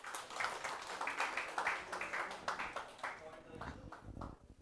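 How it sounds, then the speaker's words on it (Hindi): Class applause during an IAS prelims crash-course session: faint, scattered claps from a small group of students, uneven in rhythm, with a voice faintly in the background. "तालियां हो जाए देखिए इनके लिए"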